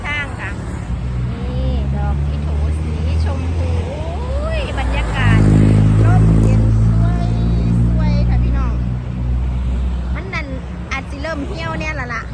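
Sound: traffic passing on a roadside

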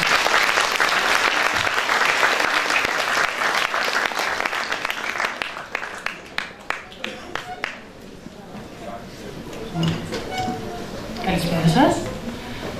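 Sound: audience applause for guest speaker

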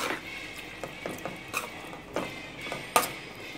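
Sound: stirring poori masala after adding water

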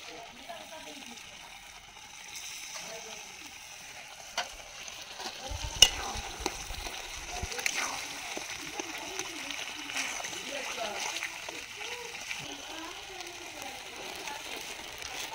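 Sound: tomatoes added to sizzling duck curry being stirred

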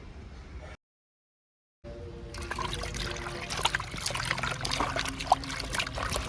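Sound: chicken pieces being washed under running water

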